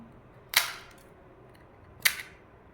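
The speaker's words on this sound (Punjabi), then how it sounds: "ਤੇ ਬਹੁਤ ਹੀ ਵਧੀਆ ਕਰੰਚੀ ਤੁਸੀਂ ਇਹਦਾ ਦੇਖ ਹੀ ਸਕਦੇ ਹੋ ਇਹਨਾਂ ਦੀ ਆਵਾਜ਼" Two sharp, crisp cracks about a second and a half apart, crispy fried golgappa puris snapping, against a quiet background.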